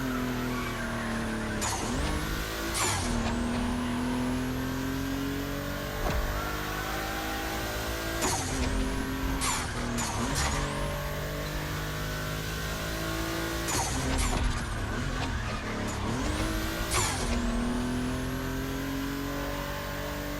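Volkswagen race cars lap a track in The Crew Motorfest, engines revving loudly with repeated gear-shift surges, tire squeals and skids breaking in every few seconds, a continuous close roar.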